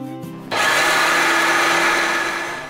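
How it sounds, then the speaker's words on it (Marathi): A mixer grinder whirs loudly while grinding boiled moong dal to a coarse texture. The steady motor roar starts abruptly after a brief quieter moment and holds up close to the end. "आता मी गॅस बंद करते आणि हिला आपल्याला मिक्सरला लावून घ्यायचं आहे"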